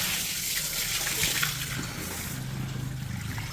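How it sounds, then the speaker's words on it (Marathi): Bullocks drinking water make soft continuous slurping, trickling and splashing sounds at close range and at moderate loudness, with no clear talking. "या गाया अशा पाणी पितात"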